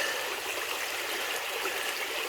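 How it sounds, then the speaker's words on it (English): Rinse water pours steadily off a gold prospecting pan holding bedrock mud in West Virginia, an unbroken close splashing trickle with no speech. "you just kind of pour the rinse water off"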